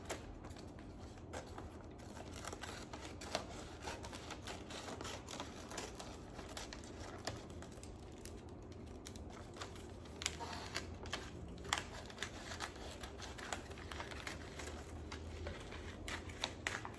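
Scissors snip through the long paper ends while presents are being wrapped, a steady run of faint, close clicks and crisp cuts for the whole stretch with no talking over them.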